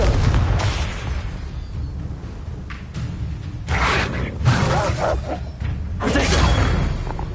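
A Confringo blasting spell detonates in Hogwarts Legacy amid busy combat, with several loud booming bursts and crackling impacts layered over rumbling background game noise.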